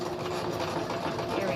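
A sewing machine runs a back stitch on cloth, a steady close whirring hum that fills the short moment without a break.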